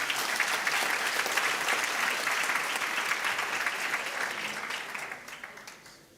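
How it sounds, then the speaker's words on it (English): A crowd at the 2023 Western Cape Prestige Agri Awards gala applauds finalists heading to the stage, a full, even wash of clapping that thins and fades away over the last second or two. "Give them a round of applause."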